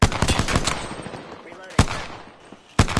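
Rapid bursts of automatic gunfire crackle loudly in a multiplayer first-person shooter match, with dense rattling volleys at the start and sharp separate bursts later, the firing sounding close and harsh.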